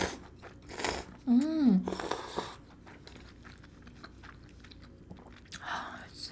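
Instant chashu pork ramen noodles chewed close to the mouth, with moist slurping, soft crunching bites and smacking, a hummed vocal sound partway through.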